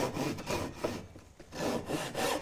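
A Japanese hand saw, ryoba or dozuki, draws back and forth through a piece of wood along a marked line in rhythmic rasping strokes, close and loud, with a brief pause midway before the strokes resume.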